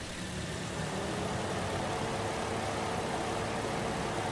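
A Toyota Vios engine idles steadily with the aircon running, a constant low rumble with broadband hiss that holds at an even level throughout, close by and with no voices.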